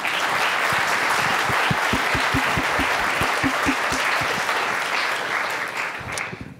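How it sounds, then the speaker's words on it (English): Audience at a PyBay 2016 Python conference talk on Flask breaks into loud, sustained applause, dense clapping filling the room before tapering off at the end. "Should we clap for you first? Like we should clap, right?"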